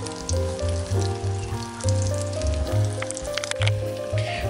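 Stuffed potatoes, two at a time, fry in a pan with a steady, close sizzle that runs the whole time over a low, humming tonal background.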